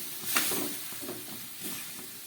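Water is poured into a pan of frying vegetables, making a quiet, hissing sizzle that lasts a couple of seconds with small bursts of crackle.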